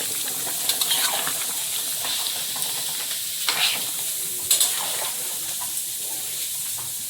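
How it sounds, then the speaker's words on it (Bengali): Fried fish pieces dropped into a tomato curry in a hot pan, sizzling loudly with scraping stirs and a few sharper clatters, close up and without talk. "এবার ভাজা মাছগুলো দেবো"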